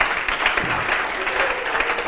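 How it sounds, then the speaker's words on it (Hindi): A classroom audience claps in a dense burst of applause that lasts a couple of seconds, close and fairly loud. "एक बार ताली बजा।"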